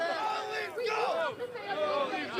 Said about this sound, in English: fans have been gathering to cheer on the team on the big screen